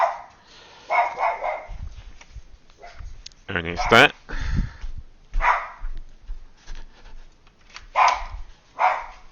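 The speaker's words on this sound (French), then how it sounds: "c'est encore une livraison qui fait japper le chien" A dog barks in short, scattered bursts and whimpers indoors, set off by a delivery arriving, while someone speaks briefly between the barks.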